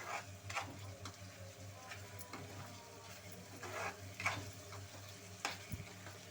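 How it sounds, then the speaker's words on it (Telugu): Chicken fries with chicken masala in a pan, giving a quiet, steady sizzle broken by soft stirring scrapes and occasional ticks, with no talk. "ఇలా చికెన్ మసాలా వేసి ఫ్రై చేయాలండి"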